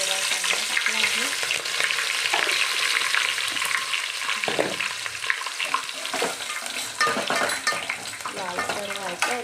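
Chopped green onion sizzles loudly in a pan for pulao, a dense continuous crackle with stirring and faint utensil scrapes throughout, no voices.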